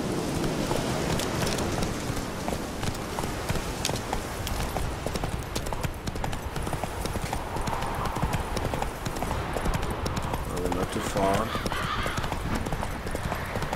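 Horse galloping in The Witcher 3, a fast rhythmic clip-clop of hooves continuing throughout at moderate level, with faint background game ambience.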